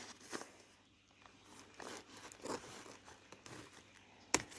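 Scissors cut sticky tape on a delivery package of herb plants, making soft, quiet crinkling and snipping. A sharper click comes near the end.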